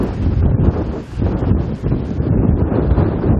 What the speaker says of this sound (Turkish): rüzgar var.